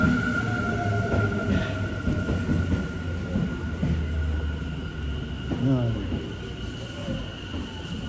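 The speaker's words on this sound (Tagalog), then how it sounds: "Ayun na po yung train, sasakay na po ako dito" Passenger train pulling into a station, a heavy rumbling roll with tonal metallic hum and brief wheel squeals, steady and close, while someone talks briefly over the noise.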